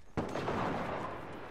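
A single sharp gunshot-like blast from the video game Generation Zero erupts into a heavy explosion, its deep rumbling boom decaying over about a second.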